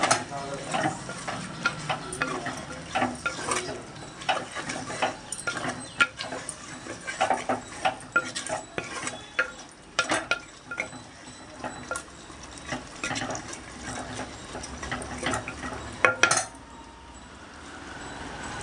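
A spoon scrapes and clinks steadily as ginger is stirred into chicken curry in a pot, with a continuous sizzle of frying underneath. The stirring runs in a busy, irregular rhythm and ends with a louder clatter near the end.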